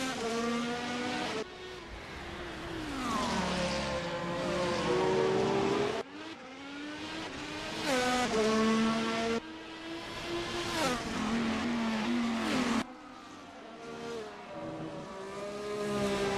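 A Cadillac race car roars through its final lap at Las Vegas, the engine loud and close, its pitch repeatedly climbing and then dropping sharply with each gear change.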